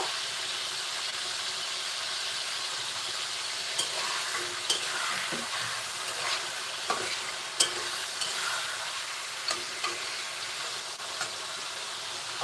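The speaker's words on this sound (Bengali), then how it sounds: "আমি মুরগিটা দুই মিনিট মতো একটু ভেজে নিচ্ছি" Chicken pieces frying in a pan for a homestyle Bengali chicken curry give a steady, close sizzle with occasional clinks and stirring knocks, and no voices.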